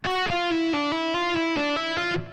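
Distorted electric guitar rips through a quick blues-rock phrase, several sustained notes picked in succession, loud and close, ending abruptly.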